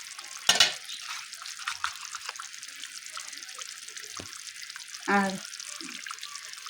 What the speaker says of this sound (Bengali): মশলা ধোয়ার জলটাও দিয়ে দিচ্ছি